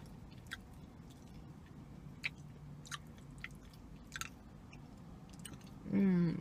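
Someone chewing a giant sesame seed cookie close to the mic, soft sticky mouth sounds and a few faint crunchy bites spread apart, quiet, ending with a brief louder voiced sound.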